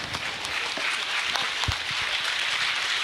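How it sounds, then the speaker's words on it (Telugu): Audience applause for rescuers at a women's multitasking webinar, a steady wash of many hands clapping throughout, fairly close and even in loudness with no pauses. "ఒకసారి అందరం నుంచొని వాళ్ళ క్లాప్స్ కొట్టి"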